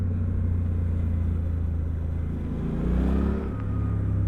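A Suzuki V-Strom 800 DE motorcycle pulls away under throttle. Its steady, rumbling engine drone rises in pitch as it accelerates, close and loud, with no speech.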